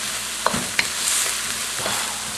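Garlic and ginger frying in a hot wok for a chicken jalfrezi, a steady close sizzle with a few sharp pops and stirring scrapes, no talking.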